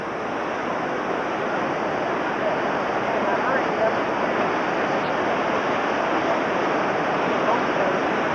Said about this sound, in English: now we're going to look down on the waterfall